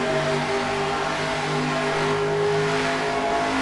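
Race car engines in NASCAR Racing 2003 at Ontario, heard from in-car as a steady, loud, droning roar with whining harmonic tones, holding constant at full speed with no voices.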